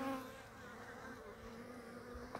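Honeybees swarm around an opened hive during a colony inspection, giving a steady, close, moderately loud buzzing drone that holds evenly throughout without pause.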